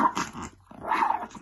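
A dog growls near her puppies around food: two deep, rumbling growls close up, split by a brief pause.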